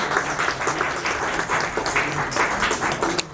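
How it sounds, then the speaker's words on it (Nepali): An audience at a Nepali literary anniversary event for poet Bhanubhakta Acharya claps loudly and steadily, a dense wash of hands filling the hall without a break. "यहाँले जोरदार ताली बजाएर"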